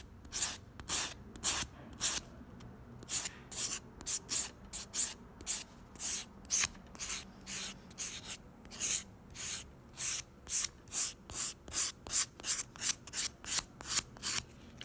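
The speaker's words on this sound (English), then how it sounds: "Definitely want to clean up the edges and smooth them out" Acrylic nail edges are filed and smoothed with a rough file, a close series of quick, rhythmic rasping strokes that speeds up toward the end, with no talking.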